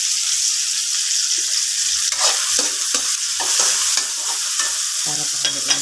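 Sweet potato leaves and tomato sauté in a hot pan with a steady, close sizzle, broken by repeated scraping and clacking strokes of a stirring utensil.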